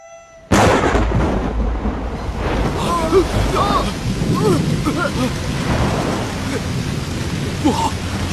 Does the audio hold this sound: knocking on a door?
no